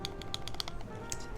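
Keys on a clacky Keycult No. 1 mechanical keyboard are pressed in a quick, uneven burst of sharp, bright clacks, close-up and fairly loud.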